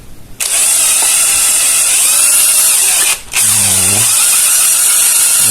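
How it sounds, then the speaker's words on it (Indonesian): Power drill working on a disc brake caliper piston, running as a loud steady whine that stops briefly near the end, then spins back up with a lower pitched grind. "Kita kancing seperti ini, kita gunakan bor ya."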